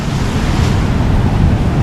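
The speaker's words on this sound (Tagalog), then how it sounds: "yan malakas yung flow ng tubig" Strong water rushing at a dam in Sulat, Eastern Samar: a loud, steady broadband roar of flowing water, continuous throughout with no voices.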